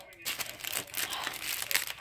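A plastic popcorn bag is crinkled and crackled in bursts as someone tries to open it by hand, with close, irregular rustling that carries on steadily for about two seconds, no talking.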